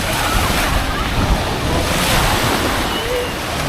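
Surf breaking on the beach at Hat Sai Kaew in Sattahip, Chonburi, with a steady broadband wash of waves and some wind buffeting, continuous and fairly loud with no voices.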